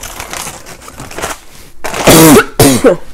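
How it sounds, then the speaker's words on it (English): A few harsh coughs close to the microphone, preceded by quieter rustling and shuffling. "I really apologize for this cough."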